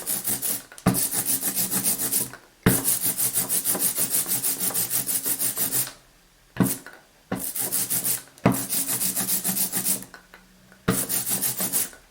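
An ink roller rolls back and forth through ink in a roller tray for relief printing with a poly block, giving a close, sticky, rasping hiss in repeated long strokes separated by short pauses.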